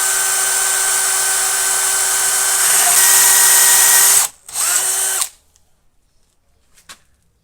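A loud Dewalt cordless drill on speed one, fitted with a door-knob hole jig, whirs steadily for about four seconds boring through a wooden door, briefly cuts out, spins again, then stops, leaving near silence with a few faint knocks.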